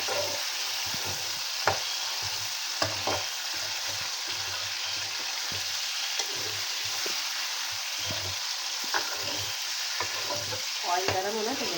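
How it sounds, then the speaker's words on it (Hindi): Chicken pieces sizzle steadily in hot oil in a pan for a chicken aloo salan, a loud continuous frying hiss with occasional scrapes and clinks as they are stirred. "तो अब हम इसको चिकन को ज़रा पका लेंगे, इसका कलर चेंज हो जाए।"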